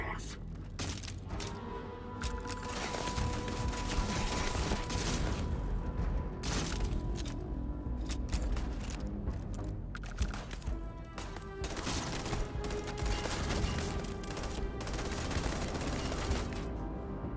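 Rapid gunfire in the space game Starfield, with dense bursts of cracking shots and impacts throughout, mixed under a busy game soundtrack and a talking voice.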